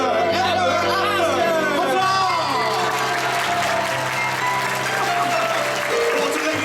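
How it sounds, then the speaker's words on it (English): A theater audience applauds Princess Rapunzel at the end of a Tangled stage show at Disneyland's Royal Theatre, with steady, dense clapping mixed with crowd murmur and music, held at an even level throughout. "a round of applause for Princess Rapunzel!"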